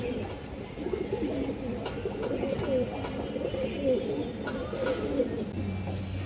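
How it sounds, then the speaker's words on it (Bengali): Low, steady cooing from a red chuili female pigeon held at a pigeon market stall, running continuously under background voices and general bustle. "খুবই সুন্দর একটা লাল চুল্লি চুইঠাল মাদি কবুতর আছে দর্শক।"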